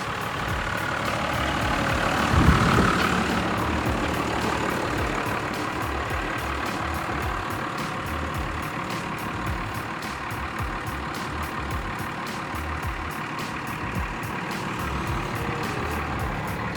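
A Cummins diesel truck engine runs on its factory exhaust, a steady low rumble with a quiet, even idle throughout and faint rhythmic ticking, no voices.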